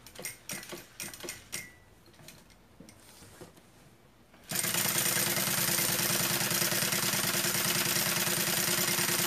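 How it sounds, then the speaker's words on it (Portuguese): Sewing machine running continuously as it topstitches a safety seam around a synthetic-material bag pocket, a steady close mechanical whir that starts abruptly after a few seconds of scattered quieter handling sounds. "E já faz uma costura de pesponto. Só uma costurinha de segurança, tá? Em toda a volta."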